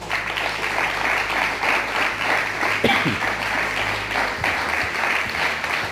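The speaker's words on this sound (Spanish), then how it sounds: "vamos a darle un aplauso al Eterno" A congregation applauds at a church service, a broad wash of many hands clapping at moderate level, steady throughout with a few low bumps and murmurs underneath.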